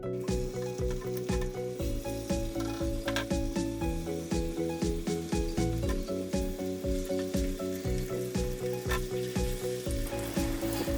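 Chicken pieces half-submerged in coconut oil fry in a pan over a medium flame, a loud, steady crackling sizzle with bursts of popping throughout and no voices.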